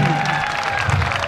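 Crowd applause at a Punjabi village wrestling (kushti) bout at a fair, steady and dense clapping with crowd murmur from start to end, mid-distance and moderately loud.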